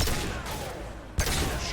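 Gunfire in the video game Mass Effect 2: a dense, sustained burst of shots fills the clip, breaking off briefly before a sharp new volley kicks in, with little or no talk over it.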